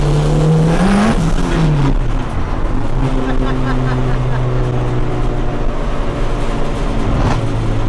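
A 1992 turbocharged Honda Civic EG pulls hard in third gear, engine pitch climbing and shifting through loud, close cabin rumble, with brief voices over it.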